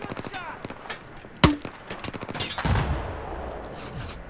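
Battlefield 4 gunfire in a solo match: a burst of rapid shots followed by a single loud sharp crack, then heavier rumbling fire and distant explosions, with a player's voice talking briefly over the action.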